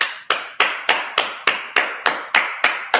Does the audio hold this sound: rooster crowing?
no